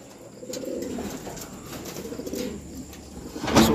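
Several pigeons coo nearby in low, rolling throaty calls, with a brief rustle or flutter near the end.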